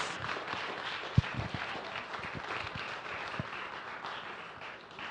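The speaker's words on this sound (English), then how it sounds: "So please give them a lusty round of applause." An audience at the SANFEST 2022 performance evening applauds the sixteen delegates, a steady wash of clapping with a few sharper slaps and thumps standing out, moderately loud throughout.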